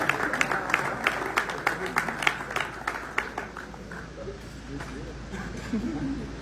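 An audience claps for a pastor at a gathering, with distinct rhythmic claps near the start fading into a softer crowd murmur and voices talking over a background hiss.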